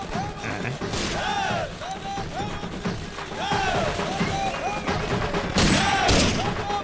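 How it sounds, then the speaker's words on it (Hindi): Celebratory gunfire at a birthday celebration in a movie scene: rapid volleys of loud shots crack out in bursts across the whole stretch, mixed with a background score and crowd noise. "देखो कैसे फायरिंग कर रहे हैं।"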